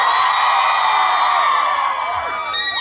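A youth festival audience, at the Red Ribbon Youth Festival in Meghalaya, cheers loudly with sustained high screams and whoops blending into one continuous roar.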